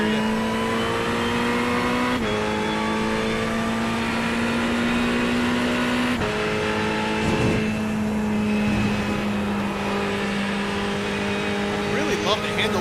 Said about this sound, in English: I really love the handling of this Ferrari.